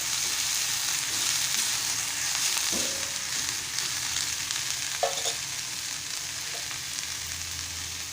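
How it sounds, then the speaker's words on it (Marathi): Taakla greens sautéing in a pan for a Malvani-style vegetable dish, a soft continuous sizzle with a few scraping stirs of a spatula, close and fairly quiet, no talking. "आणि परतून घेत आहे"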